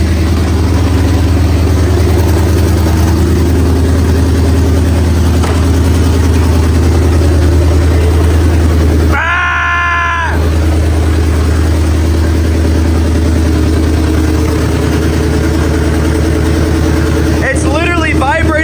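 A race car engine idles loudly from inside the cabin, a steady deep rumble running throughout, with people talking over it.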